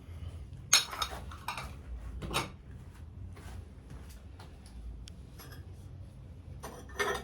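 Glazed ceramic dishes, including green celadon and marigold pieces, clink and rattle now and then as they come out of a pottery kiln. The sharp, scattered knocks are fairly quiet against a soft background, with no talking.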